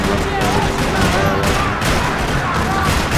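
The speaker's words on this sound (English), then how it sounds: "Another parking lot rattling with gunfire" Rapid gunfire rattles through a parking lot in the Max Payne video game, a dense continuous fusillade of shots with faint voices mixed beneath the loud, unbroken barrage.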